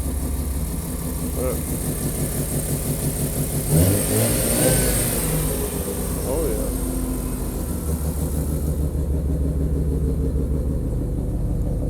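Rotary engine of a Mazda RX-7 FD, freshly fitted with new AEM smart ignition coils, idles and revs up close by with a steady low rumble, rising briefly in a couple of blips, while someone talks over it now and then.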